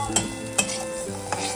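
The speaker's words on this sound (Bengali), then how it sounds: "ডালটাকে আগে একটু তেলের মধ্যে ভেজে নেবো।" Dal lentils fry in hot oil in a pan, giving a gentle steady sizzle. A spoon stirs and taps the metal a few times, sharp clicks spaced well apart.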